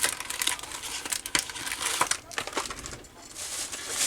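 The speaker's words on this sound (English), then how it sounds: "I hate trying to compete with crinkling." Plastic packaging on craft bows and hearts being handled, a close, loud crinkling and rustling with sharp crackles throughout.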